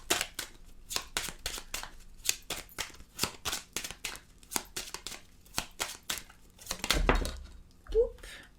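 Tarot cards are shuffled close up in quick, crisp bursts of riffling and flicking, with a short pause and a low thump near the end.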